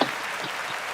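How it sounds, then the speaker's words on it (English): A brief burst of applause, a short dense patter of clapping hands that starts sharply and holds steady for about a second. "Round of applause to you guys, man."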